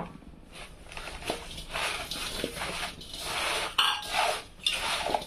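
Garlic paste for mango pickle is mixed in a bowl with soft, uneven scraping and clinking of a utensil, fairly quiet and close, repeating in irregular strokes.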